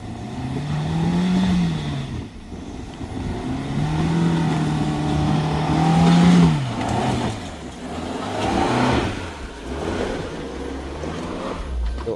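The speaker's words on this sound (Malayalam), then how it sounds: "ഇപ്പോൾ അടുത്ത് നമ്മുടെ ജിംനി കയറി വരുന്നുണ്ട്" A Maruti Suzuki Jimny climbs through deep monsoon mud, its engine droning and revving in rising and falling surges, loud and close throughout, with wheels churning the wet ground.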